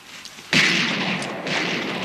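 Gunfire bursts out during a shootout, an abrupt loud blast followed by a rough, sustained crackle and a second surge of shots a second later, harsh and close.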